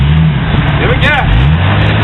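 An off-road 4x4 engine revs loud and close as the vehicle climbs over rocks near a waterfall at Big Bear, the throttle rising then easing, with people talking over it.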